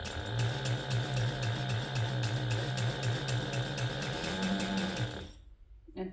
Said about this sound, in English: my sewing machine is not sick. That's the sound it makes because of the motor I have.